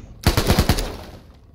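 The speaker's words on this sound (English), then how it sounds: "Just utilizing the AKM to its full potential here" AKM rifle fired in the Thunder Tier One video game: a short, loud, close burst of about five rapid shots that trail off into a fading echo.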